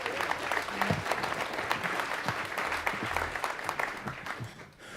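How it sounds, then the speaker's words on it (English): An audience at a Kids Rock Cancer benefit concert applauds the band with dense, steady clapping that fades toward the end, alone with no talk over it. "Please give the band a big round of applause."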